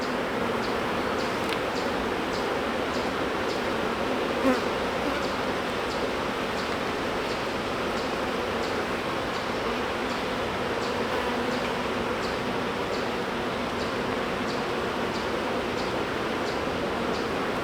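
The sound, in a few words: swarming bees buzzing around an open hive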